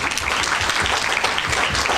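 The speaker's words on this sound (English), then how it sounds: "A big round of applause to the parents" A large crowd at the Miss Malaysia World 2013 pageant fills the hall with continuous, loud applause, a thick wash of many hands clapping together without a break.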